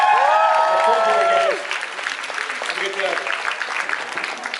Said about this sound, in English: Guys, round of applause for these fellas.